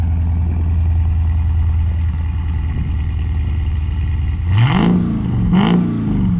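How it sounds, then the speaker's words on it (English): Chrysler 300 SRT with a swapped 392 V8 idling with a deep exhaust burble, then two sharp throttle blips that rise and fall, heard close by. "Let them hear a little exhaust."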